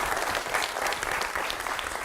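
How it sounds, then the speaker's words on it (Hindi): A TV studio audience applauds guests arriving for a debate show, a dense steady burst of many hands clapping at moderate loudness with no talk over it. "जरा तालियां दोनों के लिए आप बजाएं"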